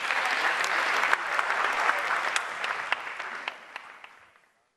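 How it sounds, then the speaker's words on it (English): Applause for participating schools at a senior high school renewable energy competition: a dense crowd clapping loudly with distinct sharp claps, holding steady before tapering off and fading to silence. "A round of applause for all these schools."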